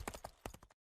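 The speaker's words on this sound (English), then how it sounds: "He takes the horse and gallops away." A horse's hooves clip-clop in a quick galloping rhythm, several sharp, close strikes in rapid succession that stop abruptly after under a second.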